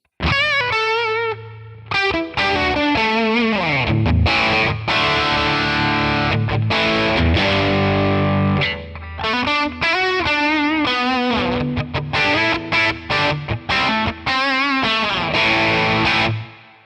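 Distorted electric guitar lead tone from an Amalgam Two Rock Classic Reverb model on a Tonex, loud phrases of bends, vibrato and rapid picked runs separated by brief gaps, played alone without speech.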